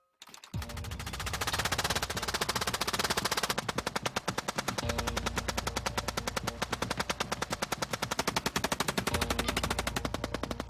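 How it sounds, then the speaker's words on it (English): Gatling gun firing rapidly in a long, continuous stream of evenly spaced shots, loud and close, with no pause throughout. "the Gatling gun could unleash 600"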